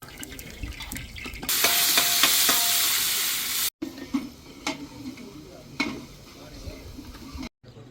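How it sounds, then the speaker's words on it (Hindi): Dal cooking in a large pot in a village setting in Uttarakhand: a steady frying sizzle and stirring scrapes, with clattering knocks and brief gaps and no one talking. "तो इसमें दाल बना रहे हैं इतने बड़े बर्तन में"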